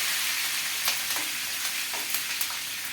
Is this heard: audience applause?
no